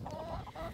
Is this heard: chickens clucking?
yes